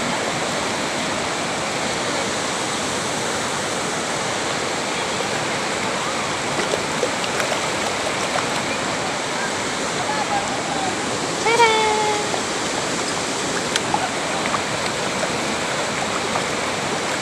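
Steady broadband rush of a waterfall and flowing river water at Sungduan River in Lawaan, Eastern Samar, continuous and fairly loud throughout, with a brief faint bird-like chirp near the middle.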